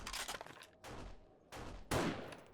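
Sniper rifle shots fired at zombie bears in the video game 7 Days To Die, three or four sharp reports spaced out over a couple of seconds, fairly faint.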